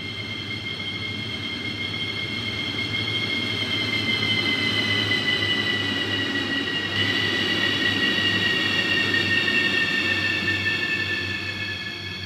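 A simulated train rolls along the Ennstalbahn line between Stainach-Irdning and Selzthal in Train Simulator 2021, a loud steady rumble of wheels on rails with sustained high-pitched squealing tones running throughout.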